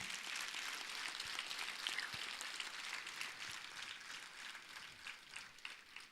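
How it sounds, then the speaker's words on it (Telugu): An audience claps together in a steady, faint wash of applause that holds for several seconds without any talking. "ఒక్కసారి మనం గట్టిగా చప్పట్లు కొట్టుకుందాం"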